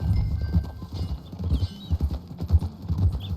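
Horse hooves clip-clopping at a steady walking rhythm in the Red Dead Redemption 2 video game, close and clear with regular thuds and no talking.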